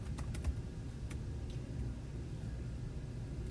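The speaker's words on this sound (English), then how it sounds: "So I'm just going to type new labels," Quiet keystrokes tap on a computer keyboard, a few scattered clicks over a low, steady background rumble, with no one talking.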